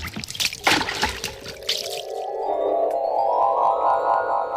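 Water pours for a bath, starting with splashy, irregular trickling and settling into a steady, close pouring stream that fills a container, with no voices.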